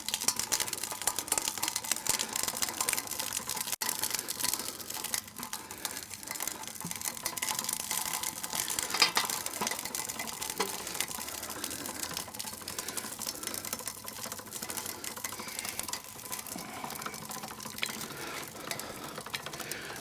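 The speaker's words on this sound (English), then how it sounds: "And then I'll crank backwards, and we're just going to run this through." A hand-cranked DIY hackle turned backwards as fiber runs through it, giving a fast steady stream of soft clicking and ratcheting ticks at moderate level with no talking.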